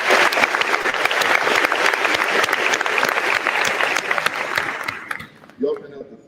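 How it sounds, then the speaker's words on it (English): Applause from an audience at a high school senior awards ceremony, loud sustained clapping for about five seconds that dies away, followed by a brief sound at the end. "just give him a round of applause for spending this day"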